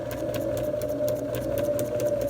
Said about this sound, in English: And then you'll sew all the way down to the end of the line.